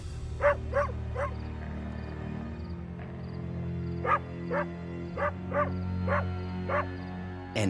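A dog barks in short repeated yips, three quick barks early then a run of six evenly spaced barks after a pause, moderately close over a low steady hum.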